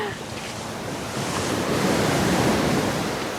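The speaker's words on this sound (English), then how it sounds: "Okay, that was a big wave." Big ocean wave crashing onto a cold beach at Ilha Grande, a broad roaring wash of surf that swells louder midway and holds steady, with wind buffeting the microphone.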